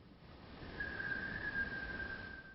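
A single steady whistle tone sounds faint and distant, as if coming from an upstairs closet or crawl space in a house, holding for about two seconds with no talk over it.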